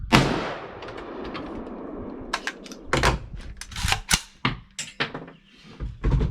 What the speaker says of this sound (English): Can't see the hole now, so I'm gonna shoot it again.